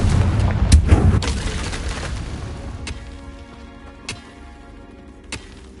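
A Confringo spell blast from the Hogwarts Legacy video game hits with a loud burst at the start, then trails off into a quieter decaying rumble broken by a few sharp, isolated cracks.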